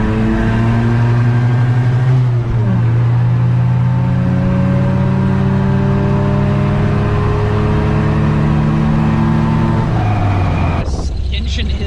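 Rotary-swapped 1972 MGB GT with a Mazda transmission, heard from inside the cabin while driving: a loud, steady engine drone that climbs through the revs, dips at a gear change, then rises again, with a brief clatter near the end.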